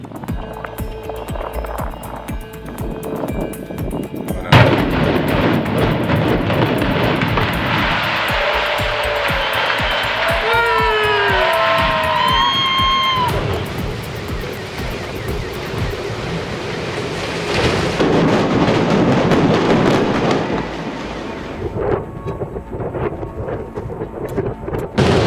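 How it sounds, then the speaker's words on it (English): Explosive demolition of Cornwall Tower: a sharp blast followed by a long, heavy rumbling roar of the collapsing building, swelling again near the end before settling into a fading rush of debris, with faint whistling cries over the din. "DSM Demolition orchestrated the graceful fall of Cornwall Tower"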